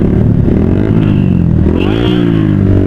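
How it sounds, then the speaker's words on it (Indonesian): A motorcycle engine revs loud and close, a steady rumbling throttle with rising and falling pitch, its gas running low, heard alone without talk. "Coba geber-geber lagi."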